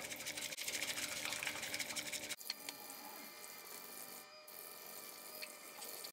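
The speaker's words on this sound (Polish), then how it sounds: "I miotełką robimy takie dość mocne ruchy, żeby tą matchę spienić." A whisk is beaten vigorously through matcha powder and about 100 ml of water to froth it, making a fast, continuous, fine scraping and rattling that is fairly quiet and close, with no talking.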